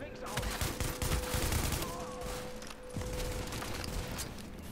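Gunfire in a firefight in The Division shooter game, a steady clatter of rapid shots and bursts filling the scene, with voices talking faintly beneath.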